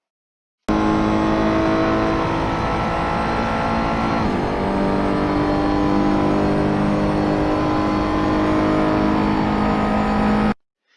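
A Ferrari 488 GTE race car engine in Assetto Corsa revs hard and steadily, loud harmonic whine climbing through gears with a brief shift dip, continuous for about ten seconds.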